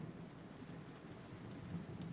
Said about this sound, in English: can y'all hear the thunder and the rain?